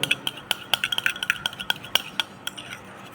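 Homemade skin serum being mixed in a bowl, with a quick irregular series of sharp spoon clinks and taps against the bowl's sides, close and alone.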